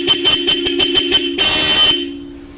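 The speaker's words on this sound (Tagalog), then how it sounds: "Busina natin kung kukurap." A motorcycle horn honks in a rapid string of short beeps followed by one longer held blast that trails off, loud and close, with an engine idling underneath and no talking.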